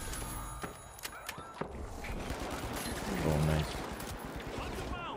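Shots ring out in The Finals gameplay, a few sharp reports early followed by a dense rumble of action and effects, with a voice speaking over the mix.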